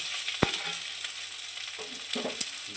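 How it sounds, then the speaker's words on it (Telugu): Onions, curry leaves, capsicum and chillies fry in oil, a soft continuous sizzle with a sharp utensil knock near the start and a few light stirring scrapes toward the end, close and without speech. "బాగా ఫ్రై చేసుకోవాలి. అన్నీ ఫ్రై అయిపోయినాయండి"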